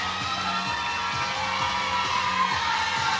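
A small fan club at a table tennis team fixture cheers and shouts steadily in a bright, excited chorus of mostly young voices.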